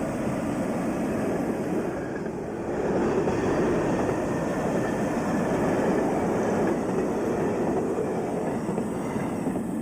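BOB train rolling toward Grindelwald in the Swiss Jungfrau region, a steady rumbling roar of wheels and carriage noise heard at moderate level without letup.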